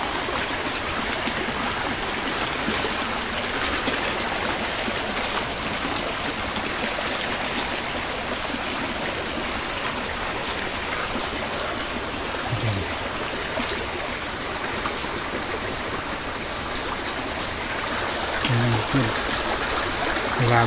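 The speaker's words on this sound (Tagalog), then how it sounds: "Ito yung ilog." A river streams by in a steady, full rush of flowing water, close and continuous, with a couple of brief soft voices barely heard beneath it.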